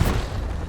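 A grenade explodes in Call of Duty during a competitive LAN finals match, heard as one brief, loud, low boom that rumbles and fades within a second.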